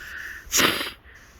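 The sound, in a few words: sneeze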